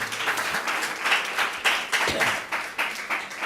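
A church congregation claps together in a steady, dense burst of handclaps, loud and close, with faint voices mixed underneath.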